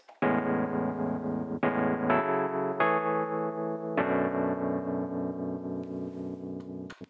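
A jazzy chord progression on a keyboard: five sustained chords ring out one after another, each attacked cleanly and held with a warm electronic tone, the last chord fading out at the end.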